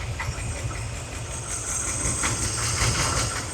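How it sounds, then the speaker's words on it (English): An engine fitted with a Holley carburetor idles with a steady, low, lumpy rumble and faint knocking, heard close up at moderate level with a slight rise toward the end. "it feels like it's idling better"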